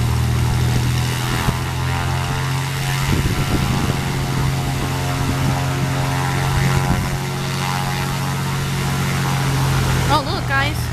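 A Piper light propeller airplane taxis nearby at a municipal airport, its engine drone loud and steady with a throbbing buzz throughout, while people talk over it.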